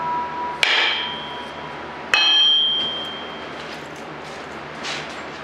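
Two sharp, ringing hammer blows on a metal hole punch tool, spaced about a second and a half apart, each leaving a bright metallic ring that fades slowly, close up with no voices.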